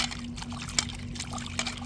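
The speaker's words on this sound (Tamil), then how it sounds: "நல்லா நம்ம அலசி எடுத்துக்கிறணும்." Soaked dried fish being rinsed in water by hand: continuous splashing and trickling with small sloshes, close by, over a steady low hum.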